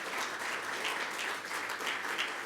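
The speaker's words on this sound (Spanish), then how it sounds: "Un aplauso al Señor." Steady crowd applause fills a church congregation in praise of the Lord, a dense, continuous clapping texture that holds evenly loud throughout with no break.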